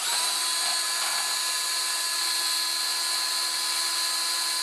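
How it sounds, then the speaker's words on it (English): A high-pitched power drill whines steadily and loudly throughout, close up, with no pauses or voices, drilling plastic while making a musical instrument. "get that drill again"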